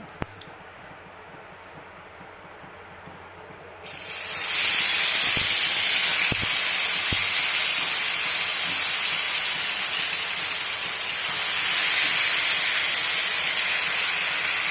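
Vallanki fish from the Meghadri reservoir near Visakhapatnam dropped into hot oil, a quiet room suddenly erupting into a loud, steady, broadband sizzle that holds strong for over ten seconds.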